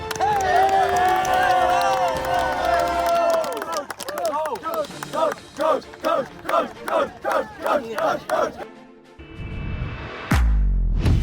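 A crowd celebrating a school team's championship win claps and cheers, first a swell of shouting voices, then a run of about ten strong rhythmic group claps, ending in a loud burst of cheering.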